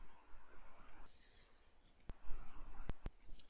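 Computer mouse clicks while selecting shell elements in S-FRAME 2022 structural software, a few sharp close clicks near the end over quiet room noise.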